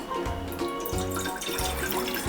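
Half a glass of water poured into a cooking pan while making momo chutney splashes and trickles close up in short, uneven pulses, with a faint tonal hum underneath.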